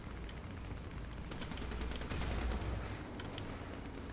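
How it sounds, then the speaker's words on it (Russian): Artillery fire in the tank battle game War Thunder: a run of sharp, closely spaced blasts and cracks over a dense rumbling din, fairly loud and continuous, swelling in the middle with no voices. "А тут огонь артиллерии."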